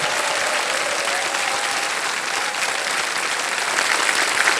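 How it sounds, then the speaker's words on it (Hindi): Studio audience on a televised quiz game show breaks into steady, full applause for a contestant, a dense wash of clapping that continues evenly throughout. "तालियां बज जाए इनके लिए।"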